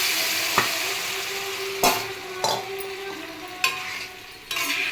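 Tamarind water goes into a simmering raw mango curry and is stirred, a steady frying hiss broken by a handful of sharp spoon scrapes against the pot.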